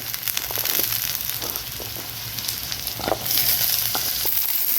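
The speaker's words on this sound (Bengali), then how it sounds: "আলুগুলোকে পেঁয়াজের সাথে একটু এক্সট্রা করে আমি ভেজে নেব" Potato pieces frying with browned onions in a pan: a steady, close sizzle with occasional stirring scrapes and crackles, no voices.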